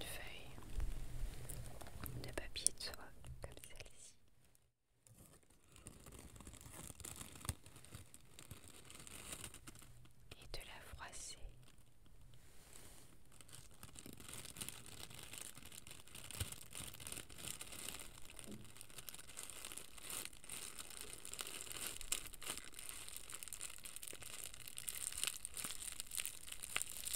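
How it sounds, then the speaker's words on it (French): A sheet of tissue paper is crinkled and torn close to the microphone, soft dense rustling and crackling that runs continuously with brief pauses, quiet and intimate, while a voice whispers at times. "prendre une feuille de papier de soie comme celle-ci"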